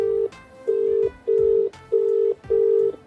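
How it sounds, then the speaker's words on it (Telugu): A telephone call rings out with five evenly spaced ringback tones, each a steady beep of under half a second, clear and close with short gaps between. "చెప్పచ్చు, రింగ్ అవుతుంది"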